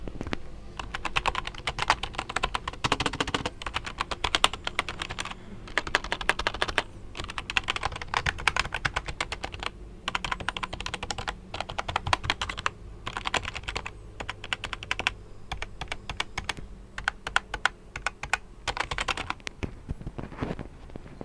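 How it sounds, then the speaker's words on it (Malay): Rapid, continuous clacking of keys on an HP K500F gaming keyboard, close up, with bursts of fast typing and brief pauses throughout. "So aku nak test dia punya typing sound lah."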